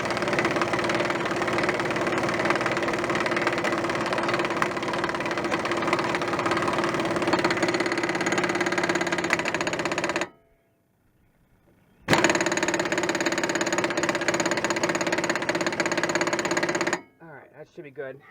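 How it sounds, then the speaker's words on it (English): An impact wrench runs down the front axle nut on a 1997 Chevy Blazer in loud, sustained rattling hammering bursts, cutting off abruptly for a pause, then starting again before stopping. "Me, I just run it down with the impact to the point where I feel it's safe"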